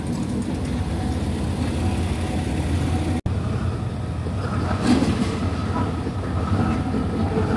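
Shunting locomotive 4043 moving through the station yard at Hua Lamphong, Bangkok, a steady rumbling rail and engine noise running throughout with a brief dropout partway and faint clatter near the middle.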